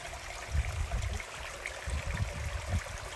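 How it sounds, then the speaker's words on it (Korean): A mountain stream trickles and gurgles steadily close by, with soft low rumbling bursts coming and going over a faint hiss; no voices. "여기 산에서 내려오는 물소리가 졸졸졸 들리는데요"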